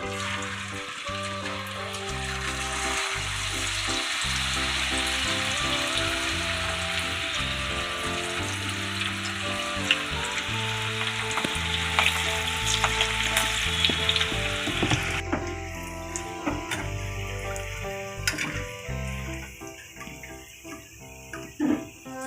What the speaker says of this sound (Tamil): வாழைப்பூ 65 நம்ம போட்டோம். நல்லா மொறுன்னு பொரிஞ்சிடுச்சு